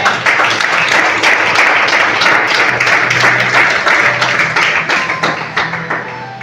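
A church congregation claps and cheers together during a worship service, a dense, steady wash of applause that holds strong and then thins and fades toward the end.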